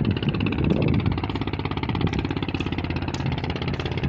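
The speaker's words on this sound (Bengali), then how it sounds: "এই আর একটা এক্সটেনশন জয়েন্ট।" A motorcycle rolls across an expansion joint on a bridge over the Dhaleshwari River, its engine running in a steady, close, loud drone with a continuous rhythmic pulse and no talking.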